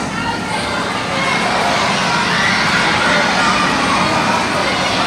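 Large stadium audience at a SeaWorld Orlando orca show yelling out guesses all at once, a loud, continuous wall of overlapping shouts and cheering from many voices.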